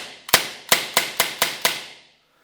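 SIG Sauer P226 CO2 air pistol firing pellets, six sharp cracking shots in quick succession, loud and close, with brief decays between them and silence afterward.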